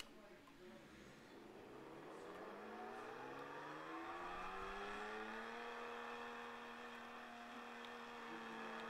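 A yellow McLaren accelerating in the Vehicle Tycoon video game, its synthetic engine tone rising steadily in pitch and then holding a sustained high whine, quiet and continuous.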